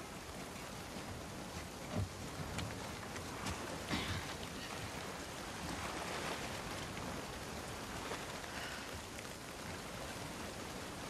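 Steady heavy rain in The Last of Us Part II, a dense continuous hiss of downpour across the whole stretch with faint low rumbles of thunder rolling beneath and no talking.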